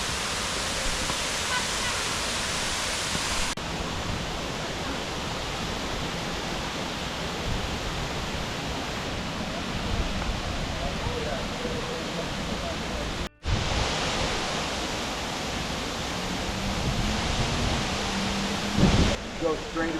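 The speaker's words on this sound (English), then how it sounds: "Welcome to Looking Glass Falls." Looking Glass Falls in Pisgah National Forest, North Carolina, roars as a steady, broadband wash of falling water, loud and continuous, with two brief cuts in the flow of sound.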